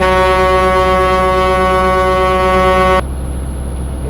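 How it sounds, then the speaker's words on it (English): A loud, steady Peterbilt 387 truck horn in Euro Truck Simulator 2 blares for about three seconds, then cuts off abruptly, leaving a low engine hum. "I didn't even try the horn out yet."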